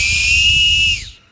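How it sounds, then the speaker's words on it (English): A 3D-printed plastic whistle made on a Creality Ender 2 Pro gives one loud, sustained, piercing blast, with a low breathy rumble beneath it, and then cuts off at the end. "It's a whistle."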